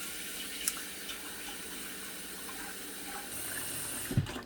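Water running steadily from a kitchen tap into a cooking pot, a continuous hiss and splash that holds even throughout, ending with a brief knock near the end.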